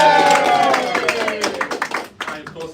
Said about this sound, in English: Big round of applause for Tom!